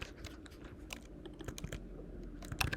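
Quiet, rapid clicking of keys on a computer keyboard, a short burst of typing with soft irregular taps close by.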